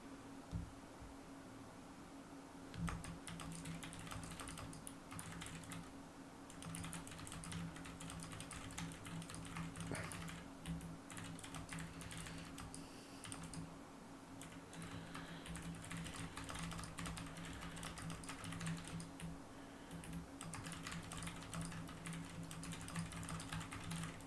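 Typing on a computer keyboard, a steady stream of close, soft key clicks and taps with small pauses and bursts, continuing for over twenty seconds at low volume over a faint electrical hum, no talking.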